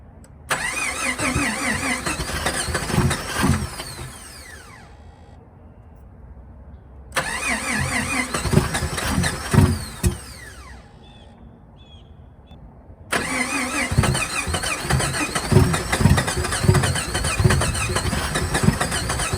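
A Jeep Comanche's engine cranks and catches three times in a row, each start running briefly at a rough mid-pitched idle before cutting out to quiet, heard up close and loud with no voices.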